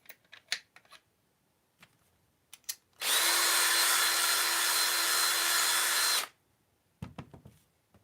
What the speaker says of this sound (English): the amount of time that you run it inside the trimmer, so you're not doing it too long